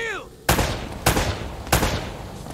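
Three loud, sharp gunshots ring out roughly half a second apart, each with a ringing tail, after a brief high voice at the start.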